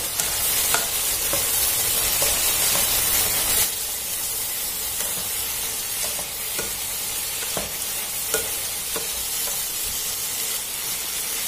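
Long beans and fresh shrimp are stir-fried over high heat in a wok, producing a loud, constant hiss and sizzle with regular spatula scrapes and clacks, close up and uninterrupted.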